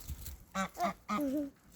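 Nearby geese honk three times, short nasal calls with the last one drawn out, over faint background noise.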